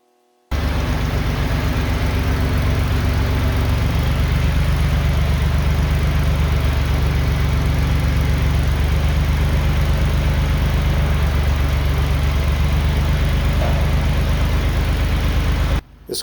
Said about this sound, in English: just use the boom pole on the tractor to scoot it over and put it beside